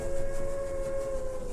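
A train's whistle sounds as a steady, sustained tone over a rumbling rail background, loud and continuous for a short stretch.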